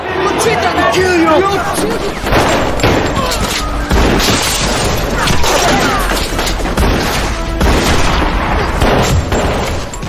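A voice imitates rapid gunfire in a mafia shootout scene, with dense, loud bursts of booming, crackling shots running steadily throughout amid other chaotic noise.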